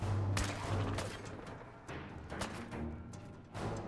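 Gunfire in the video game Fallout 4, a run of bursts and booming shots, some close and sharp, others dull and distant, spread unevenly across the scene over a low rumbling background.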